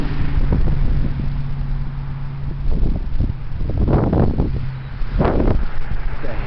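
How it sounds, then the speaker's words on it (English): Heavy wind buffeting outdoors as a steady loud roar with gusty swells, close to the microphone, with a low rumble underneath. "The heavy wind."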